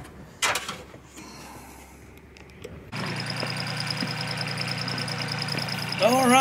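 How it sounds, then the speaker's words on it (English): A tractor engine runs steadily nearby, a droning, slightly knocking hum that steps up in level partway through, with some clattering before it. "I know you hear the tractor running."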